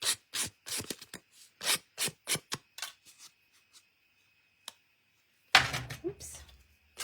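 Small craft blade scraping and cutting through paper while making a card: a quick run of raspy strokes, a quiet pause, then one more louder cut near the end.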